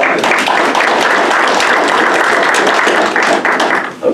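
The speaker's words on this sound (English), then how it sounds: "Let's give him a round of applause" A round of applause fills a committee meeting room after a vote on a county party position, dense steady clapping from the gathered members for about four seconds before it tapers.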